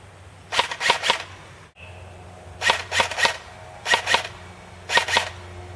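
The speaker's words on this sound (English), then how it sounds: "engage each target at semi-automatic and then switch to full auto" A G&P Stoner 63 MK.23 airsoft electric gun firing semi-automatic: four quick clusters of three or four sharp mechanical clicks each, close and crisp over a low steady hum.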